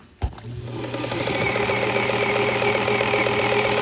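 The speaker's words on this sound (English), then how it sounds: "Now we have the correct motor belt tension." A Singer Featherweight sewing machine motor runs steadily after a belt tension adjustment, its even mechanical whir starting with a click and holding a constant hum close up with no talking.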